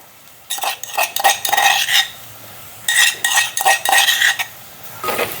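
Crushed garlic and ginger are sautéed in a pan for Jaffna-style chicken porridge, heard as loud bursts of a utensil scraping and clinking against the pan, coming in irregular stirring spells with short pauses between them.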